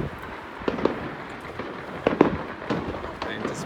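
Neighborhood fireworks on Oahu at New Year pop and crackle at a distance, with several sharp bangs scattered over a steady background rumble.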